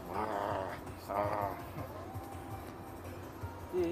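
A person's voice imitates a low, dog-like growl in two or three rough bursts, mixed in with casual conversation and laughter.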